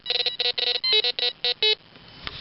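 A metal detector gives a treasure-hunting signal outdoors in Quebec: rapid bursts of loud electronic beeping in short pulses, one slightly different tone in the middle, then quieter rustling.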